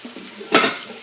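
Beef and broccoli stir fry in a hot pan, a close burst of sizzling and a single utensil scrape or clatter against the metal, brief and loud over a low cooking hiss.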